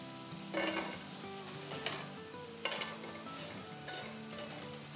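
Chicken tikka pizza fries going into a hot pan straight off the stove, giving a steady close sizzle with occasional clinks of utensil on pan and brief louder bursts, no voices.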